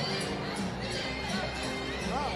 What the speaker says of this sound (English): they disappear in a crowd like this. Big crowd.